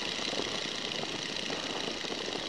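The radial engine of a 1942 Boeing Stearman biplane is throttled back to about 1500 RPM with carburetor heat on. It gives a steady, rough drone heard from inside the aircraft.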